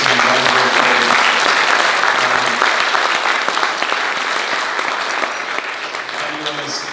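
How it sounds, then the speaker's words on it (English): Loud, sustained applause from a conference audience at a renewable energy forum, dense clapping filling the whole stretch and easing slightly toward the end. "Can we just give a huge round of applause to Sean Miller from the Sydney Warrnambool."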